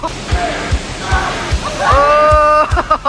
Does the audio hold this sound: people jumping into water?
yes